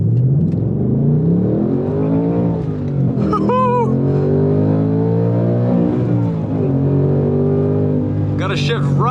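A 2024 Ford Mustang Dark Horse pulls hard on a race track, its engine note climbing loud and close through the gears in rising sweeps, with brief whines in between.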